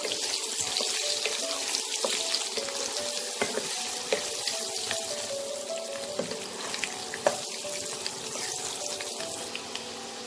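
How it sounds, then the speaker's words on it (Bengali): Potato pieces deep-frying in hot oil until crisp for Kashmiri dum aloo, a dense, loud, continuous bubbling sizzle with small pops throughout, close up and with no voices. "আলুটা পুরোপুরি লাল হওয়া অবধি আমি ভাজবো, পুরো ক্রিস্পি হবে।"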